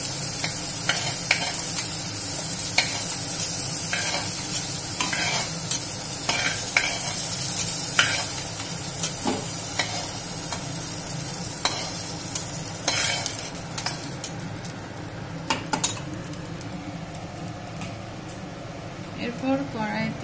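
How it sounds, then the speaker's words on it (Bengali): Broccoli fries in a kadai while a spatula scrapes and stirs it, giving a steady sizzle with repeated scraping clicks throughout and a person talking over the sound. "দেখুন এবার ব্রোকলিগুলো ভাজা ভাজা হয়ে গেছে।"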